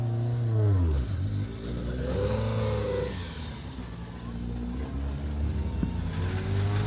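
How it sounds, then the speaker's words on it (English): A rally car at full throttle on an asphalt special stage at the Tour of Epynt, its engine revving hard and climbing through the gears in repeated rising sweeps. The car sounds loud and close, with a steady roar throughout. "Pull those gears, get the revs up."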